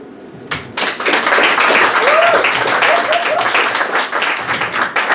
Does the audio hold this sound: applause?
yes